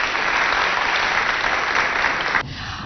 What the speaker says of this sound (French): je vous demande aussi d'applaudir